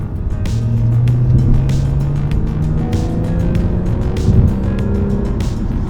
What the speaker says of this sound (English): It has a kind of a medium tone on the exhaust note.